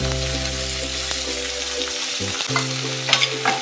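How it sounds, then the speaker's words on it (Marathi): Tomatoes hit a pan of softened onion and start to sizzle, a close, steady frying crackle with a few stirring scrapes near the end. "आता त्याच्यामध्ये आपण टोमॅटो घालून घेऊया."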